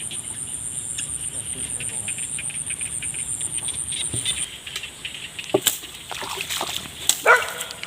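A dog barks a few sharp times near the end, somewhat distant, over a dense, constant chorus of crickets in rural countryside at night.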